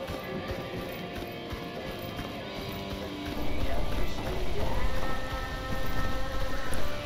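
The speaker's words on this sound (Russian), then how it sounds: "Опять ливень хуярит." Heavy downpour in the shooter S.T.A.L.K.E.R. Anomaly, a dense continuous rain hiss with thumping low tones growing louder in the second half, no one speaking.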